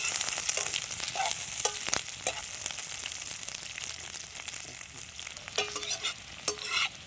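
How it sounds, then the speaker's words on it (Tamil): Three large onions sauté in hot oil for a curry leaves chicken curry, a constant hissing sizzle broken by several sharp scraping stirs of a spoon in the pan, with no voices. "3 பெரிய வெங்காயம் சேர்த்துக்கலாம். இதை நல்லா வதக்கிடலாம்."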